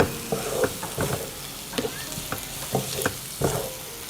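Peppercorns and onion sauté in oil with a rhythmic series of close spatula scrapes and knocks against the pan, roughly every half second, over a light frying hiss.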